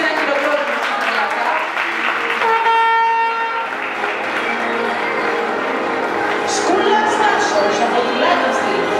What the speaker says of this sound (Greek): Αξίζει ένα χειροκρότημα.